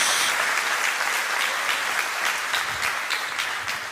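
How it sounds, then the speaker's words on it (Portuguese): A church congregation claps together in dense, sustained applause, a bright and even wash of many hands with faint rhythmic accents, steady for several seconds at moderate distance. "Dá uma salva de palmas ao Senhor"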